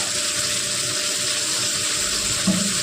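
Water pours steadily into a kohlrabi curry with potatoes and beans, a continuous rushing splash under a low hum, close and moderately loud, with a small thump near the end.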